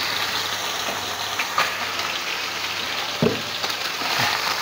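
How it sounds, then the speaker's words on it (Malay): Stir-frying chicken tails (tongkeng) in a pan after boiling, a steady close sizzle and frying hiss with occasional soft clinks and stirring scrapes, no talking. "Kita akan tumis kalau enggak."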